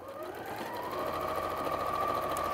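A sewing machine stitches a seam with a steady, quiet mechanical hum and rapid whirring that runs continuously without a break, faint but alone.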